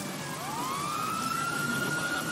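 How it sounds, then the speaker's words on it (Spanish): Police sirens wail in a video game, a single rising, sustained siren tone sweeping up and holding steady over a constant background hum, fairly close and clear with no talking. "Se oyen las sirenas"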